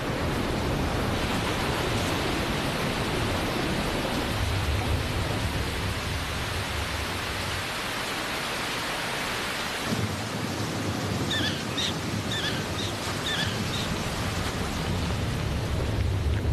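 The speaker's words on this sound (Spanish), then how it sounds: "En la pradera pueden caer 100 litros de lluvia por metro cuadrado en unas pocas horas." Heavy rainstorm on the prairie in late summer, a steady loud wash of dense rain with low rumbling underneath, continuous for the whole stretch with no voices.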